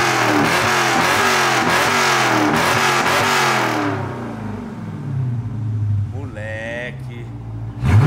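A car with a Magnaflow exhaust revs hard in loud, repeated rising bursts, then settles to a lower idle rumble as people talk excitedly nearby.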